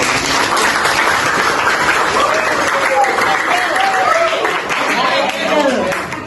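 An audience claps continuously at an Indonesian teachers' learning event, dense, steady applause filling the room from start to finish, with voices mixed faintly underneath.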